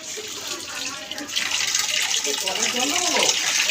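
Tap water runs into a sink or basin in a home kitchen where onions, tomatoes and potatoes are being prepared, a steady splashing gush that grows louder midway, with people talking over it.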